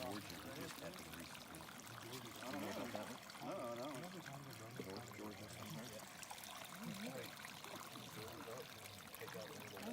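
Water pours and trickles steadily over a sand model nearby while people talk over it.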